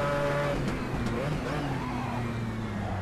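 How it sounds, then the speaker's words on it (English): A Mazda 787B race car locks its brakes while braking hard into Parabolica at Monza '66 in the racing game Assetto Corsa, its engine droning steadily as the tires squeal briefly. "We lock up the brakes."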